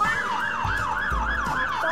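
Wailing siren of a real fire engine, rising and falling in a steady repeating cycle, loud and close with a low rumble of the vehicle underneath.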